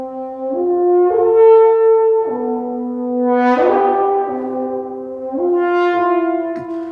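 French horn playing a solo phrase with exaggerated, explosive accent bursts that jump in loudness on each new note, three swelling attacks heard close and alone, without talk.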